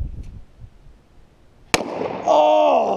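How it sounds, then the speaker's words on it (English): A single sharp gunshot fired at a target on a farm cracks loudly after a quiet moment, followed by an excited voice reacting close by. "I'm just gonna shoot this target"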